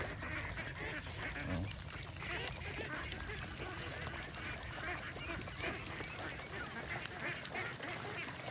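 Free-range ducks quack in a busy, continuous outdoor chorus, many birds calling over one another at moderate distance with no pause.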